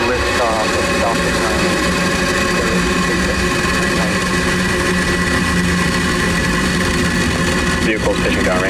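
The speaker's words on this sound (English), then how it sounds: "Ignition and liftoff of Falcon" A SpaceX Falcon 9 rocket's engines ignite and lift off with a loud, continuous broadband roar and rumble, with voices heard over it.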